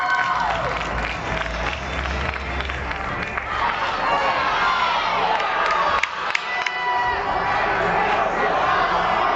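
Hockey arena crowd at a high school girls' semifinal game, a loud sustained roar of many voices with shouts and jeering that swells and continues steadily throughout, with no clear talk above it.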